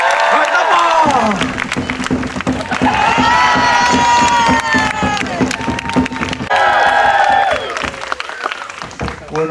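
Audience at a Polynesian Cultural Center stage show in Hawaii applauds and cheers loudly and steadily, with whoops and shouts over dense clapping that dips briefly and swells again near the end.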